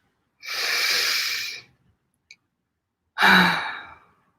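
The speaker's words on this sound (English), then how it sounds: "Let's take a deep breath." Two deep breaths during a guided body-scan meditation: a long, airy inhale lasting over a second, a pause, then a second strong breath, close and clear with no talking.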